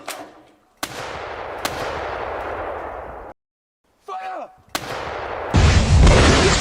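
Sharp tank cannon shots from a Soviet versus German battle in Königsberg, several loud blasts each trailing into rumbling decay, broken by a brief silence and ending in a heavy burst.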